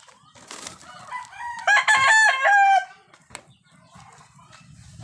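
A Boston Roundhead gamecock crows once, loud and close, a long ringing call in the middle, framed by softer clucks and rustling before and after.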